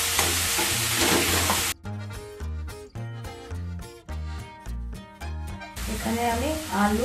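Grated carrot and beetroot fry and get stirred in a pan, a loud crackling sizzle heard at the start and again at the end, with rhythmic background music taking over in between.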